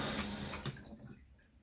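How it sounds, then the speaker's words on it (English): Water hissing and spraying from a leaking cold-water hose connection on a Luxe Bidet NEO 320 just after the supply is turned back on, a steady near rush that fades slightly toward the end. "as you can hear, the water is back on and we definitely have a leak."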